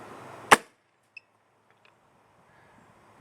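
A single sharp air gun shot rings out from a brand new Pooty Axe fitted with a Mini Bolt, a loud crack followed by a faint click and near silence.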